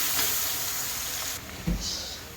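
Chopped onions fry in hot oil in a pan for a chicken dish, a steady bright sizzle with a faint stirring knock partway through.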